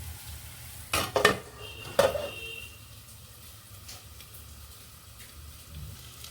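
Bitter gourd fries in a pan, with a few sharp clanks of a spoon stirring against the metal early on, then a faint, low sizzle continuing quietly.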